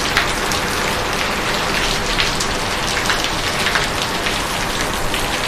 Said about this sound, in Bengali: এত বৃষ্টি হচ্ছে আমাদের দিকে আসামে।